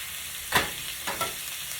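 Frozen vegetables sizzling in a hot pan on high heat, a steady hiss broken by a couple of louder stirring scrapes, no talking.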